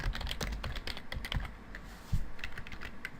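Close, steady typing on a computer keyboard, with irregular clusters of crisp key clicks running throughout in a quiet room.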